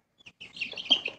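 Young Dominique chicken chicks chirp in brief, high, close peeps, a few soft cheeps that run together over about a second.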